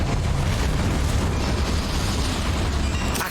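Confringo fire spell from the Hogwarts Legacy video game erupting in a loud, dense explosive roar with rumbling low end that fills the whole stretch, no voices heard.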